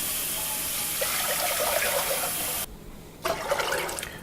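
Six cups of water pour steadily into a cooking pot at a campsite, a close, hissing gush that breaks off briefly and then resumes.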